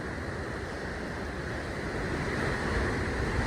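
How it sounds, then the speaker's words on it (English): Sea waves roar at a rocky coastal bay on the Costa Daurada near Cap Salou. The roar is a steady, broad rush that swells slightly toward the end, heard from a short distance and mixed with some wind, with no voices. "Hear the roar of the sea."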